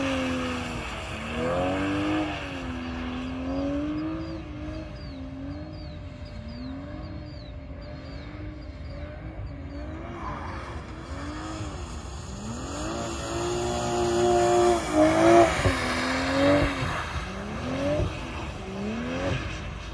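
A BMW car revs hard and spins out on a track, with engine pitch rising and falling in sweeping waves and a louder surge near the end, loud and close with no talk.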